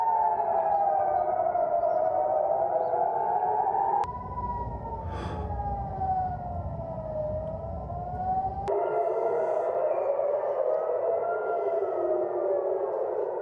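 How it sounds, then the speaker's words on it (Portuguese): Air raid alert sirens sound across Tehran, with overlapping wailing tones rising and falling slowly and steadily. They are heard from a distance, with a brief shift in the sound partway through. "sirenes de alerta aéreo soaram por diversas localidades"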